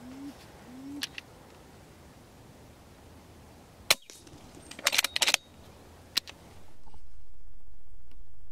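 Single sharp crack of a BSA Superten air rifle firing at a wood pigeon over decoys in the morning, a brief near shot followed by a few lighter clicks and snaps, with birdsong earlier and quiet outdoor ambience.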